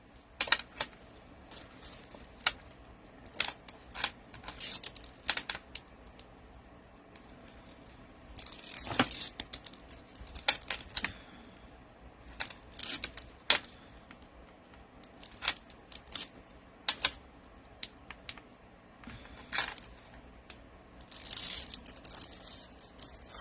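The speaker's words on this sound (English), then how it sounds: "now it's just peeling it off and putting it on the card" A cut paper piece is peeled away for a card-making project, producing scattered crinkly, tearing rustles in short bursts, some louder and close, with quiet pauses between.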